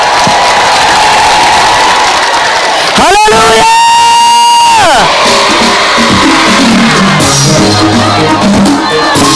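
A church congregation claps and cheers loudly throughout, with a brief sung shout rising above the crowd partway through and continued clapping and whooping afterwards.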